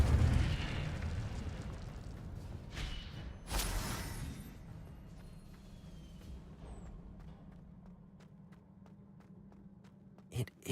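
A fiery spell blast from Hogwarts Legacy erupts in a single loud burst, then fades into a low, steady rumble with faint crackles and a few small pops.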